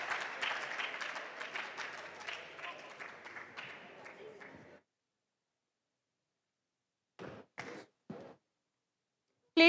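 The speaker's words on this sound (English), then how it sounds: "Please clap for Kojo." A quiz championship audience claps for a departing contestant, a moderate burst of applause that fades out after a few seconds, followed by silence and a few short spoken sounds.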